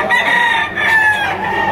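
A rooster crows loudly and close by at an auction market, one long drawn-out call with a couple of clucks mixed in.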